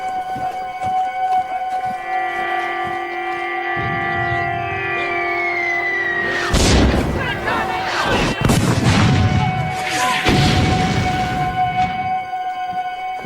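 Artillery bombardment of a town during the Battle of Bunker Hill in the American Revolution: several heavy booming blasts and rumbling bursts in the second half, loud and close, over a sustained droning musical tone.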